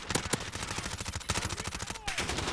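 An MP5 submachine gun in Call of Duty: Modern Warfare fires rapid automatic bursts, a dense, loud stream of close shots that runs almost without pause, with a short break near the end.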